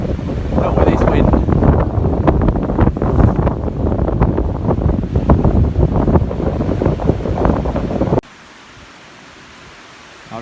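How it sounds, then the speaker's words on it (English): Strong wind at a lakeside camp in Sweden buffets the microphone with a loud, continuous roar for about eight seconds, then drops abruptly to a faint background hush. "Not with this wind."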